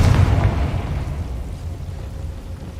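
A Confringo spell blast in the video game Hogwarts Legacy lands as a loud, heavy boom with deep rumble, then slowly fades over a couple of seconds, with no voice over it.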